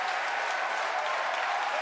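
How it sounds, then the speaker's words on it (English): Dense, steady roar of a large crowd cheering and applauding at a Falcon Heavy launch as the side boosters separate, continuous and loud throughout with no gaps. "if you can hear me over the cheering."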